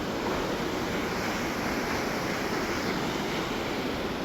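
Spray and rushing water at Birthi Waterfall in Uttarakhand, heard from some distance as a steady, even roar of broadband noise with wind buffeting the microphone and no voices.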